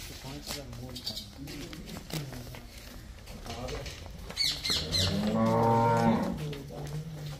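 A cow on a dairy farm with cows for sale lows loudly and close by, a long sustained moo near the end, while people talk nearby.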